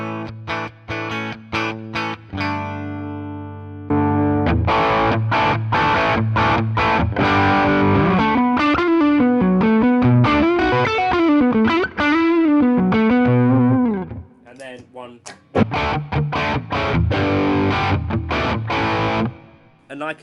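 Electric guitar driven through a Kernom Ridge drive pedal, playing crunchy distorted chords and a bending lead line at close range, briefly dropping before chords return.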